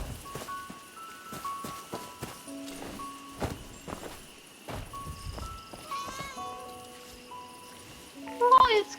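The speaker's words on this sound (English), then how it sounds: "I hear a kitty cat." A cat meows several times amid clip-clopping, shuffling animal noises, with short tonal calls and a louder cry near the end.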